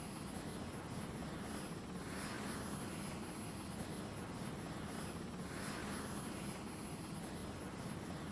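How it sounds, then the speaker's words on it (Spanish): A cartoon helicopter flies steadily, its quiet, continuous rotor-and-engine drone holding at a faint, even level throughout, with a slow rhythmic swell and no voices. "Me gustan los helicópteros."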